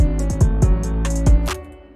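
Trap beat without sidechain, a booming 808 bass with sliding low notes under a sustained piano and crisp hi-hat hits, loud and full throughout before thinning out near the end.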